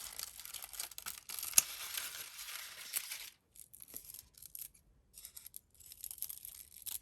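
Scissors snip through crepe paper while a dahlia flower is made, giving a few crisp close cuts with rustling paper, then quieter intermittent crinkles and handling.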